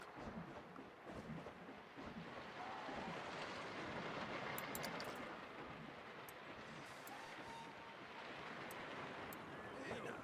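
A ride train runs on its track in the video game Planet Coaster. The rumble is a continuous, fairly faint rolling noise with light clattering, and a voice is heard briefly.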